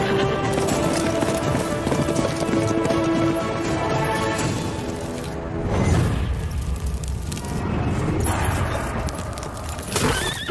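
A horse in a dramatic film scene, rapid clip-clop of hooves and loud whinnies layered over a booming orchestral score, intense and continuous throughout.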